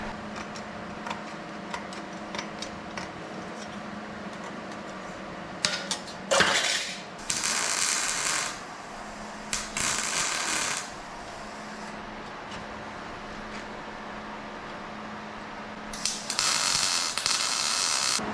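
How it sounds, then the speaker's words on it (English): Welding a thin patch strip across a hole in a Datsun body produces several loud, crackling, hissing bursts of a few seconds each. Quieter ticking mechanical sounds fill the gaps between them. "Okay, so there it is all welded up."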